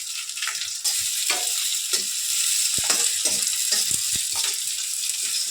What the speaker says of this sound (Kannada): ಆಮೇಲೆ ಚೆನ್ನಾಗಿ ಎಣ್ಣೆ ಒಳಗಡೆ ಹುರ್ಕೊಬೇಕು ಅಲ್ವಮ್ಮ?